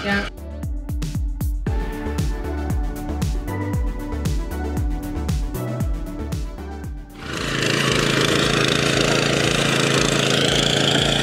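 A Firman FTL620 two-gear mini tiller engine running in a field, a rhythmic chugging idle that then revs up into a loud, steady roar.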